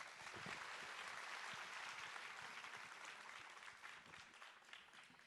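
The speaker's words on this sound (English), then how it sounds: "That deserves another round of applause, guys." Faint, distant applause from a crowd at the launch of Manish Malhotra's new venture, an even, continuous patter of many hands that thins slightly toward the end.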